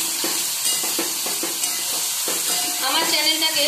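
Paneer frying in a pan while being stirred, with a steady close sizzle and irregular scraping and clinking strokes throughout, no voices.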